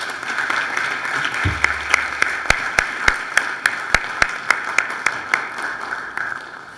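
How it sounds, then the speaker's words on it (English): A round of applause rings through a legislative chamber at a heritage celebration: steady crowd clapping carries throughout, with a single close, sharp clapper beating out an even rhythm over the wash of hands. "So let's give Herman Geist another round of applause."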